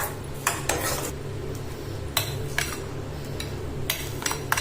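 Sautéed onions are mixed into crushed rusk in a bowl, with a spoon clinking and scraping against the bowl in a few sharp, irregular knocks over a low, steady background hum.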